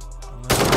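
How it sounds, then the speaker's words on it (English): Burst of rapid automatic gunfire in the PUBG video game, loud and close around the player, erupting suddenly after a brief lull. "Bullets just around me."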